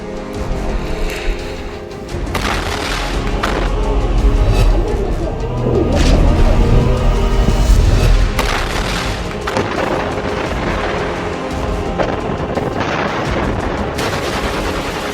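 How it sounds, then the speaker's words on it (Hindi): Hamas al-Qassam Brigades fighters attack Israeli forces at close range with RPGs, thermobaric grenades and rockets: repeated heavy booms and rattling gunfire crowd together in a loud, continuous barrage, with faint voices underneath. "हमास की अल कसम ब्रिगेड के ये लड़ाके आरपीजी, थर्मोबैरिक ग्रेनेड, रॉकेट से इजरायली सेना पर बेहद पास से हमले कर रहे हैं।"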